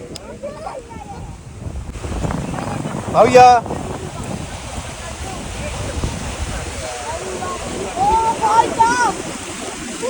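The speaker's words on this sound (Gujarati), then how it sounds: "પવનનો જ અવાજ આવે છે." Strong sea wind buffets the microphone at Tithal beach in Valsad, a continuous loud rumble with faint surf behind it and a few brief voices.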